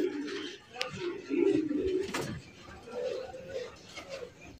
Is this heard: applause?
no